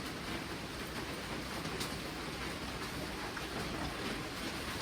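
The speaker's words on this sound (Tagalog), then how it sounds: "Antayin na lang natin na tumila yung ulan" Steady rain hisses evenly throughout, a dense wash of drops with no talking and no pauses.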